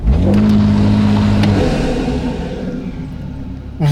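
Heard from inside the cabin, a Toyota Supra engine with a new intake revs hard and holds a steady droning note, then winds down to a lower rumble before a final short blip.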